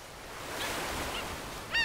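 A Mediterranean gull gives a short, bright call near the end, over a soft wash of ocean waves in the wildlife game Alba: A Wildlife Adventure, with faint earlier chirps.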